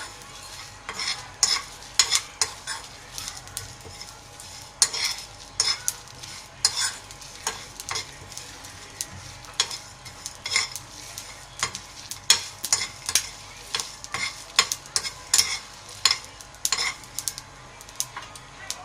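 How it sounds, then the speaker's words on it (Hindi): Cumin and whole coriander seeds dry-roasting in a pan for a homemade chaat and dahi bara masala, with steady scraping and stirring clatter of a spoon against the pan over a faint sizzle. "जीरा ऐड करेंगे, साबुत धनिया। अब इसे भी डालकर भूनेंगे अच्छे से।"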